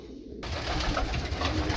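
A pigeon in a loft coos close by, a low soft throaty call over steady background noise.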